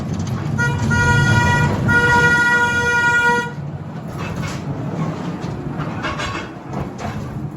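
A mine train's horn toots with steady harmonic tones for a few seconds over rumbling rail noise, then the rumble continues on its own, at the Old Hundred Mine in Silverton, Colorado.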